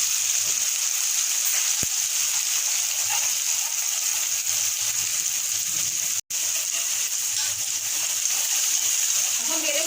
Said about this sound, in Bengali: খুব অল্প অল্প দিলাম, বেশি দেবো না।